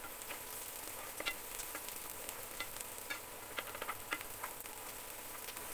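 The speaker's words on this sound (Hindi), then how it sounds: "तो देखिए फ्रेंड्स, हमारा जो प्याज है जो हम भून रहे थे वो आधा गोल्डन ब्राउन हो गया है।" Onions fry on a medium flame for dhaba-style dal tadka, a faint steady sizzle with light crackles and occasional ticking taps as they are stirred, quiet and without voices.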